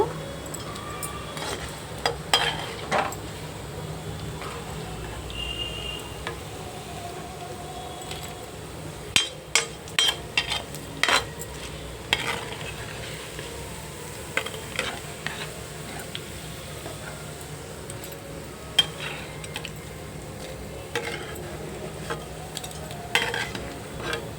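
Cashews and paneer frying in a pan while being stirred, a steady low sizzle under intermittent scraping and clinking of the spoon against the pan, close up with no talking.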